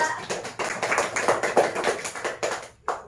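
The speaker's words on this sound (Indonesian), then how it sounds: "Tepuk tangan untuk kelompok 2." Classroom students clap their hands for a group during a civics lesson, a lively burst of rhythmic, close clapping with uneven pulses that ends in a short pause and one final clap.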